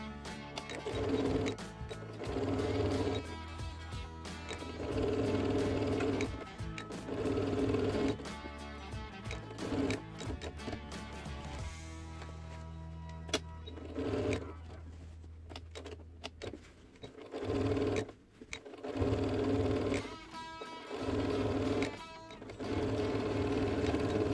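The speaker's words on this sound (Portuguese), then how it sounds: "Então, eu vou iniciar a costura aqui." A sewing machine stitches a bag's lining and strap, its motor whirring in steady bursts with short pauses between seams, close and fairly loud, with no talking.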